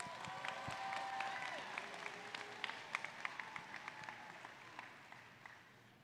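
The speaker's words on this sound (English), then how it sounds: "Give yourself a round of applause." Graduating students and guests at a high school ceremony applaud, with a wash of clapping and some cheers or whistles that gradually thin out and fade.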